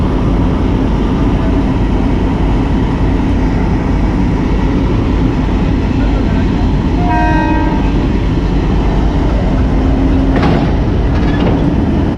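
A loud, steady rumble of a diesel locomotive engine running on the Konkan Railway, with a short horn toot partway through and faint voices in the background.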